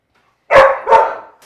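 A Labradoodle barks twice indoors in a kitchen, two loud close woofs in quick succession with a short gap between them, standing alone without any talking.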